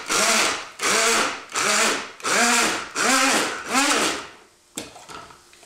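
A grinder coarsely grinds peeled almonds and garlic cloves in six loud, even bursts of whirring that stop and start, then go quiet.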